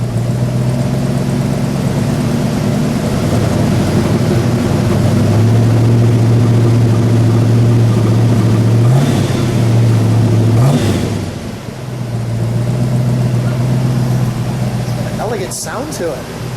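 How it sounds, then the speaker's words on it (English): A 1968 Mercury Cougar XR7 GTE with its 7-litre 428 Cobra Jet V8 rumbles at a loud, steady idle, then swells through two sharp throttle blips before settling back to a deep, even burble. "Let's give it a rev, please."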